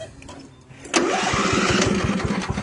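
A tractor engine cranks briefly, then catches with a sudden start and settles into a loud, rhythmic running chug close by.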